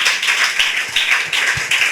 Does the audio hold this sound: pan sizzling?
no